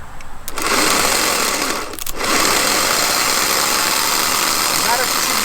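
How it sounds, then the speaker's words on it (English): A car starter motor is powered directly from a car battery through jumper cables, spinning with a loud steady whine for about two seconds, a short dip, then running on continuously. "we're gonna have little Jason test the starter"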